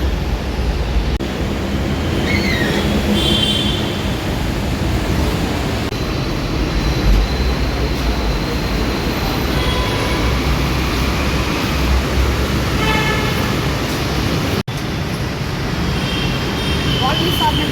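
A metro train in motion gives a steady, loud rumble and rushing roar with a few faint tonal whines, close by and running throughout with no clear speech over it.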